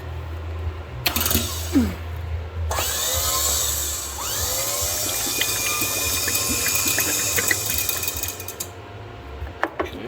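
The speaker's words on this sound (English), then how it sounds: "Well, the motor runs." A mini truck's motor, powered from a jump box, whirs and spins up with rising and falling whines, set against clatter and handling noise and a few sharp knocks.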